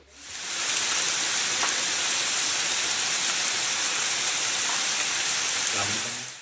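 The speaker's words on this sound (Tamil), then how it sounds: "தேனி மாவட்டம் வருசநாடு மற்றும் 50க்கும் மேற்பட்ட மலை கிராமங்களில் பரவலாக மழை பெய்தது" Rain pouring over hill villages around Varusanadu in Theni district, a dense, steady hiss of falling water that fades in at the start and holds loud and even throughout.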